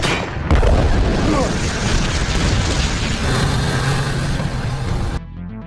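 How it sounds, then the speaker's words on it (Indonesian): Film explosion of a headquarters building, a loud sustained roaring boom with rumbling debris that fills several seconds before cutting off abruptly, with a faint voice underneath. "Jack meledakkan gedung markas tersebut"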